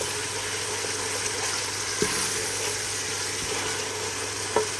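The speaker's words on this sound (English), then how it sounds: "my masala is still being cooked. So keep mixing it." Curry masala for pakoras cooks in a pan with a steady low sizzle and occasional faint stirring scrapes, quiet and continuous without talk.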